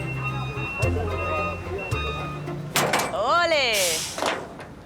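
A door opening at The Pearl, Qatar: a few short mechanical buzzes and clunks, then a sharp release and a rising-falling whirring slide lasting about a second, fairly close, with a person talking through it.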